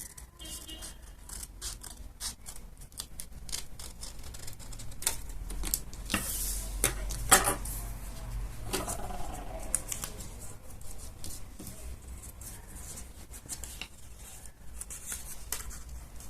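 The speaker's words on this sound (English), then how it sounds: "So let's quickly cut out the nose." Scissors snip through paper while a party mask's nose is cut out, a run of crisp close cutting and rustling at moderate level, with no talking.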